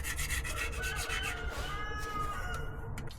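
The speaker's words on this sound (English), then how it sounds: "so everything has been scraped off" Continuous rasping scrapes as an old gasket is scraped off the oil pan of a 1952 Chevy half-ton truck with a 235 engine, steady and close with rough repeated strokes.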